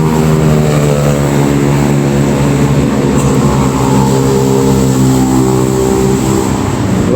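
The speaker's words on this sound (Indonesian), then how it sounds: "Memang knalpotnya memang knalpot racing." A motorcycle with a racing exhaust revs loudly and close by on Jalan Supratman in Bandung, a harsh, buzzing engine drone with strong harmonic tones that holds steady without letting up.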